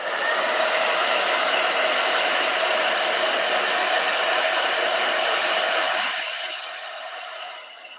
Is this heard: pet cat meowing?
no